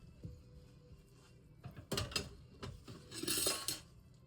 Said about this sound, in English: So we're going to give this a stir.